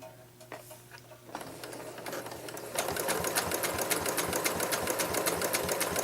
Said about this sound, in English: I like to sew it on the other side as well